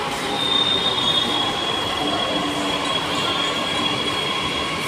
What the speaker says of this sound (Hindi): मेट्रो आ गई, चलो दोस्तों मेट्रो में चलते हैं, मेट्रो आ चुकी है।